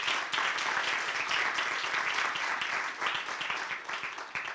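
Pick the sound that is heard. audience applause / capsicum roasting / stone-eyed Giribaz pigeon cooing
audience applause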